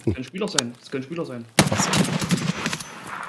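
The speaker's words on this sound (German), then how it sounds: "Oh, sie schießen." Gunfire from other players in the shooter game Escape From Tarkov erupts as a loud, dense burst of shots right after a brief exchange of speech, continuing through the rest of the moment.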